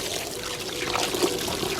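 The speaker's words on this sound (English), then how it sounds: "spray it down with a garden hose, just like this" A garden hose sprays water steadily onto a waterproof full-cover Tesla Model 3 floor mat, a continuous close hiss and patter.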